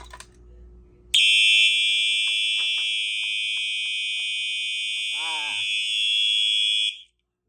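A Simplex 4004 fire alarm panel sounds a loud, steady continuous alarm tone that starts abruptly, holds for about six seconds and then cuts off, with a brief voice heard partway through.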